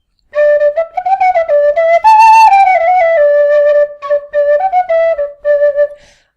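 A tin whistle plays a lively melody of clear, bright notes, with short gaps between phrases, played close and loud, held out to the side of the mouth.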